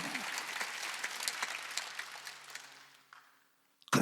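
A church congregation claps during a Sunday worship service, many hands in a scattered burst that gradually thins out and fades to near silence before a voice returns.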